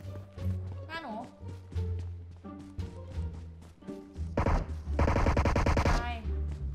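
Rapid automatic gunfire bursts from a PUBG Mobile match, crackling in dense volleys over constant game music and background hum, with people talking throughout.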